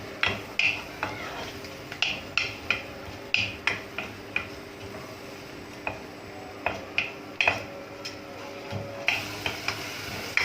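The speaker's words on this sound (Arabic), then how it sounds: "ثم نبقاو نحركو حتى تتقلى لنا البصلة" A spoon stirring onions frying with salt and cumin in a pan, sharp scraping clicks against the metal repeating every second or so, over a faint steady sizzle, close and clear with no talking.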